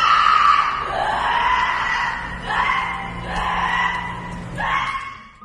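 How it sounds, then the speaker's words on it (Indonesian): A terrifying scream from an unknown source rings out as three long, wavering, high-pitched wails. Each is loud and close, with short dips in between and no talking. "tiba-tiba terdengar suara teriakan yang sangat menakutkan yang entah dari mana sumbernya"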